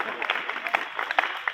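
A school audience at a Republic Day poetry event at M D Shukla college claps to welcome a speaker, a dense, moderately loud patter of many hands that continues throughout.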